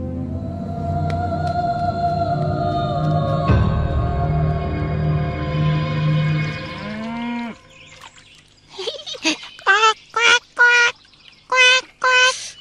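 A cartoon character imitates a goose call with a few short, loud honking cries, alone after a stretch of lower animal-like calling.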